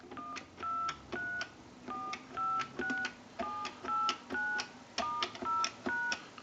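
Dial tones from a desktop payphone being repaired and converted: a steady series of short, evenly spaced DTMF beeps, each pair of tones played cleanly with brief gaps between digits.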